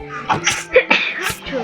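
A single sharp sneeze bursts out among people talking, with voices continuing around it.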